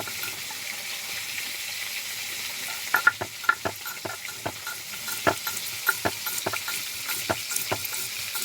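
Katla fish frying in a pan makes a steady background sizzle, joined halfway through by a run of sharp clicks and taps nearby, with no one talking.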